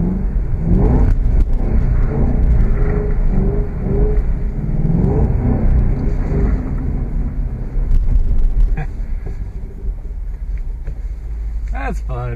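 A Ford Mustang spinning donuts in the snow, its engine revving and rumbling steadily close by, with someone talking over the motor throughout.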